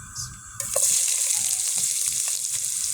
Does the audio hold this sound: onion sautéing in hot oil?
yes